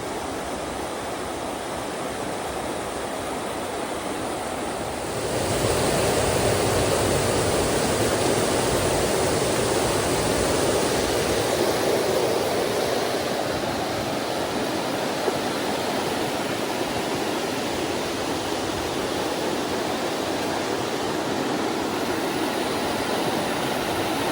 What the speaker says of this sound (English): this is upstream of the falls that we were just at. You can see the water cascading down.